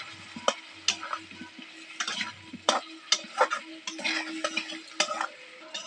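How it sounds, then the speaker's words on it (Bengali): Fried potatoes stirred into a pan of spice masala for a vegetarian banana-flower dhoka, with irregular scraping and clinking strokes over a soft sizzle, close and fairly quiet, no talking. "এবার এর মধ্যে আলুগুলো ভেজে রেখেছি সেগুলো দিয়ে দেবো নাড়াচাড়া দিয়ে নেবো"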